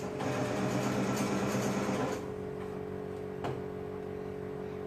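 A sewing machine stitches fabric around the armhole of a boy's tank top, running as a steady, close mechanical whir for about two seconds before stopping, followed by a single faint click.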